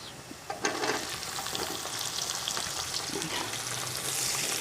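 Sliced onions hitting hot oil over light-browned garlic in a pot for aloo matar pulao, sizzling and crackling steadily with a few sharp pops at the start, fairly close and moderately loud, no talk.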